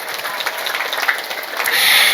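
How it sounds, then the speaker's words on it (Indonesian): Applause from the audience at an Islamic religious study gathering, a broad steady patter of clapping lasting a couple of seconds and swelling slightly louder toward the end. "Tepuk tangan dulu dong."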